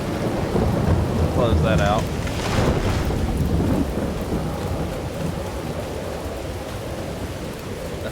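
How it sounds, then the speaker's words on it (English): A steady thunderstorm with rain roars through a Farming Simulator 22 log-sawing scene, with constant heavy rainfall and rumbling thunder, loud and continuous; someone speaks briefly early on. "The storm's sounding pretty bad on here."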